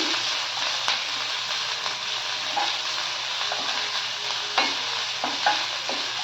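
Small pieces sizzle steadily in hot oil as they fry toward a light golden brown, with occasional stirring clinks and soft scrapes over a constant crackling hiss, no voices.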